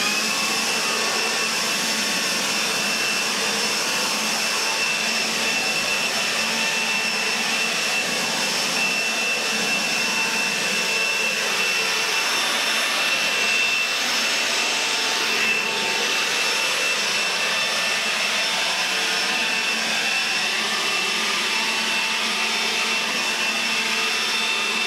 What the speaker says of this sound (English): you saw us blowing off the patio here, even blew out some of the garage and blew out the shop.